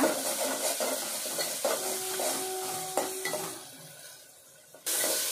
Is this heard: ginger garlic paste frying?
yes